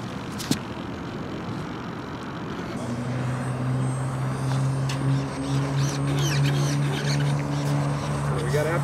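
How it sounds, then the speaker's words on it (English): A big jet aircraft engine, reportedly running with afterburner, builds a loud steady roar with a strong low tonal drone after a sharp click early on; the level stays high throughout and no talk is heard over it. "We got afterburner, we got everything."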